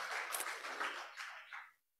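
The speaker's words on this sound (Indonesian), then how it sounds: "Berikan tepuk tangan buat Tuhan kita." A church congregation bursts into applause during a sermon, a dense wash of clapping that holds steady for a moment and then stops abruptly, leaving silence.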